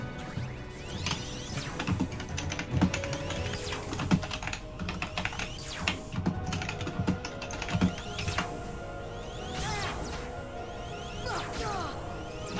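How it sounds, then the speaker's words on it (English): Computer keyboard typing is heard during a Kingdom Hearts 1.5 Final Mix gameplay session, with steady rapid key clicks throughout. Layered game sounds, whooshes and impacts play over the typing, and nobody speaks. "Sorry, Chad, I keep forgetting to mute every time I'm typing."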